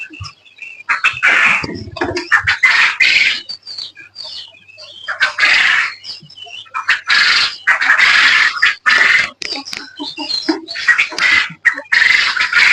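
Farm birds squawk and chatter in loud, close bursts with short gaps between them, several calls overlapping and repeating.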